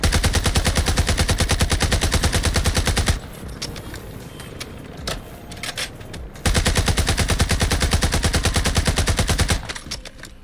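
Rapid automatic submachine gun fire in the video game Warzone 2, long sustained bursts, loud and close, pausing for a few seconds of quieter clatter before firing resumes.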